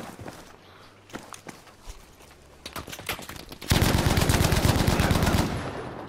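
Heavy machine-gun gunfire in a tank battle video game, scattered shots at first, then a loud, sustained rapid burst of fire lasting about two seconds before cutting off.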